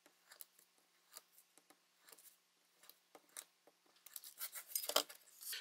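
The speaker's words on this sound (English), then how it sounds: "And so I'm going to just cut these straight across in strips" Scissors snip through two-part silicone mold putty, cutting it straight across into strips: a run of short, crisp clicks and slices, faint at first, then quicker and louder near the end.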